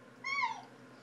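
A cat gives a single short meow, fairly faint and close, rising then falling over about half a second against a quiet room.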